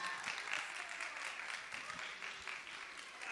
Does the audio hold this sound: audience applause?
yes